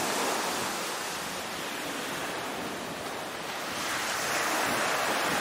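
Caribbean sea surf washing against the shore at Cahuita National Park in Costa Rica, seen from a coastal trail, a steady broad wash of breaking waves that swells louder near the end, heard alone without voices.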